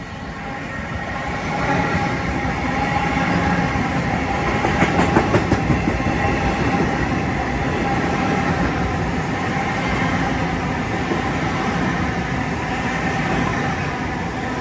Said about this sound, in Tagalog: may train oh